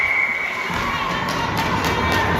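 Hockey parents in the stands at a squirt-level game yell and cheer together, a loud, dense crowd roar that swells and holds steady throughout, with no single voice standing out.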